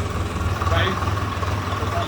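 A loaded tractor's engine runs with a low, steady rumble and throb close by, with no talk over it.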